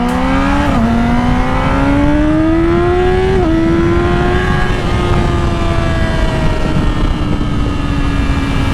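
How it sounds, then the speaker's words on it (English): A Yamaha R6 600cc sport bike accelerates hard, its engine note climbing steadily through the gears with brief dips at the shifts, loud and close throughout. "the bike will take off"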